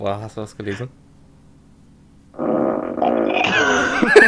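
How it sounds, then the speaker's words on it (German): A short fart sounds from a German co-op driving game session, a brief rumbling burst after a spoken question, followed by loud overlapping laughter and reaction. "War das ein Furz?"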